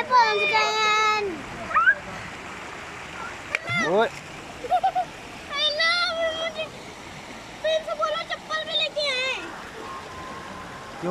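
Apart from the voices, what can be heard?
river water splashing and flowing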